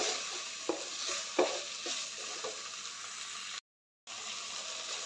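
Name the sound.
onion and tomato being roasted and stirred in a pan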